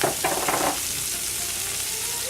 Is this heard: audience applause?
no